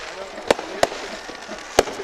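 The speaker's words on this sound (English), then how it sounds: "And the fireworks are out." Fireworks bursting after a high school state semifinal playoff football game, four sharp cracking bangs at uneven intervals over a steady crowd-and-field hiss, with faint voices underneath.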